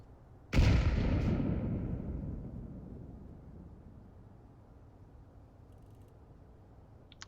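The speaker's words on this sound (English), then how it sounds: "other than the grenade explosion" A single grenade explosion during a Rainbow Six Siege match booms once, fairly near, then rumbles and decays slowly over several seconds into a quiet background.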